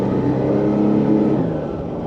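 Sea-Doo Fish Pro Trophy personal watercraft engine accelerating under throttle, a loud, steady close-up engine roar whose pitch shifts slightly as it revs, with no voices.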